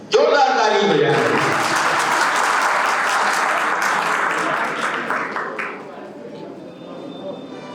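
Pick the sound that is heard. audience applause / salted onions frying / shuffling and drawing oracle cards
audience applause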